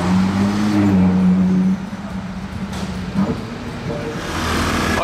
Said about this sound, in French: Juste après la 812 GTS, on a maintenant une 812 Competition.